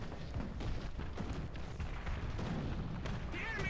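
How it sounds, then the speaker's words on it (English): An artillery barrage in the War Thunder tank game rumbles as dense, continuous low booms and thuds that sound distant and steady. "Again with the artillery barrage."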